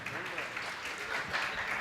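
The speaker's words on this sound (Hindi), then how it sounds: "एक बार तालियां बजाकर मुझे बताएं कि आप मुझे सुन रहे हैं।" A poetry recital audience claps briefly at an open-air kavi sammelan, a moderate patter of hands mixed with faint voices in the crowd.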